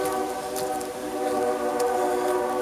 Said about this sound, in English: That train whistle?